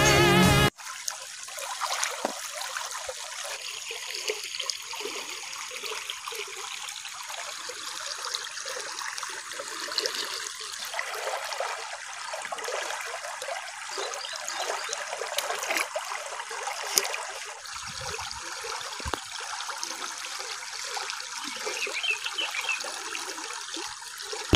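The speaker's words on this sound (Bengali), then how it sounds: "নদীতে বয়ে যাওয়া জলের শব্দ" Water flowing in a small river stream in a hilly area: a steady, close trickling and gurgling rush that runs throughout at an even level, with no voices.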